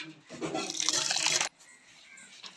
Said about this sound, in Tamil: தயிர் ஊத்த போறேன், பசுமாட்டு தயிர்